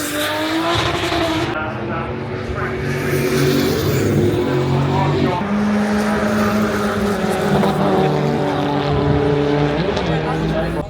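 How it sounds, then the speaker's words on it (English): Drift cars at Japfest Silverstone roar past one after another, engines revving and tyres squealing, loud and continuous with speech mixed in. "let's watch some drift cars go past"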